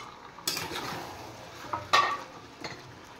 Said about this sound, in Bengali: এবার মাংসটা একটু ভালো করে কষিয়ে নেব।